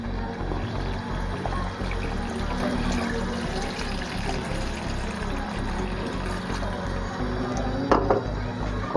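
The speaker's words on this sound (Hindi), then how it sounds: "अब इसके अंदर हम शामिल करेंगे पानी को।" Water is poured into a pot of traditional aloo chicken, a chicken and potato curry, making a continuous splashing trickle with wet bubbling for about nine seconds.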